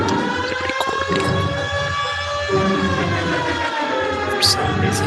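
A police car siren in the video game L.A. Noire wails steadily over traffic noise, with layered rising and falling tones sustained loudly throughout and no talking.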